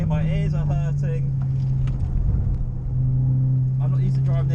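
Engine noise heard inside a Citroen C4 VTS 180 lapping the Bedford Autodrome GT circuit, a loud steady high-rev drone that dips briefly midway and then climbs again, with someone talking over it.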